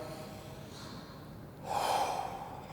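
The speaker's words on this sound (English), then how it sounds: "take a nice deep breath in through your nose. Fill your lungs up there, and then breathe out through your mouth" A slow deep breath drawn in through the nose, then a louder, fuller exhale out through the mouth during a workout cool-down, close and alone with no talking.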